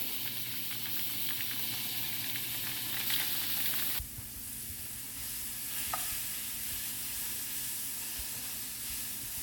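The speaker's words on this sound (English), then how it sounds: "I'm going to add my crawfish to this roux" Crawfish being stirred into a hot roux in a pan, with a steady sizzling hiss and soft scraping stir strokes running throughout, close up and without talk.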